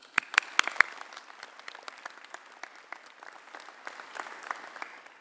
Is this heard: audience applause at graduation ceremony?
yes